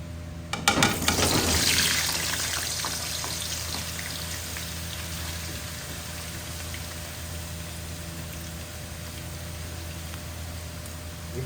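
Potatoes frying in hot oil for a chicken curry, a loud sizzle bursting up as they drop into the pan, then settling into a steady, softer crackle that carries on alone.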